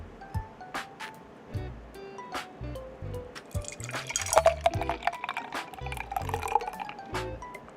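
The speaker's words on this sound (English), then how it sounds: "now we're gonna pour the coffee into our cup" Iced coffee brewed with a V60 pours into a cup, a trickle and splash of liquid over ice that builds into a steady fill, close and clear with no talk.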